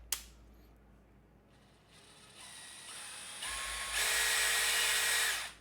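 A DeWalt DCD706 cordless impact drill runs unloaded. Its motor whine climbs in distinct steps, from a quiet low hum to a loud, high-pitched whir as the speed increases, with no voices.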